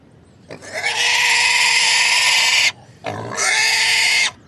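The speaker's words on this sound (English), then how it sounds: "Pigs always scream a lot when you handle them." Pigs, woodland-type animals being handled, let out two long, loud, piercing screams, the first lasting about two seconds, then a brief pause before a second shorter squeal.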